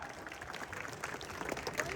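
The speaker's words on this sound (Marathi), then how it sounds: "जरा बक्षीस देणाऱ्यांसाठी टाळ्या करा" Faint, scattered applause rises from the spectators at an outdoor wrestling match, brief clapping set against the general crowd murmur and a few voices.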